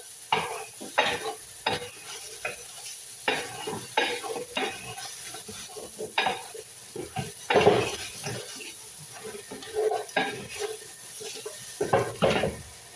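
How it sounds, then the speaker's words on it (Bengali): Dal cooking in a pot with tomatoes just added, heard as repeated scraping stirs and clinks of a utensil against metal over a soft simmer, with irregular knocks spread across the clip and no voice. "এবার আমি টমেটো ডালে দিলাম এখানে।"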